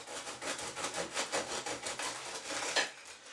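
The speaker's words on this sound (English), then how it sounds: "I'm going to get my knife. I'm going to trim a little bit off." A knife saws back and forth through a crusty homemade French bread loaf, a faint, close scratchy rasp with a quick regular rhythm of short strokes.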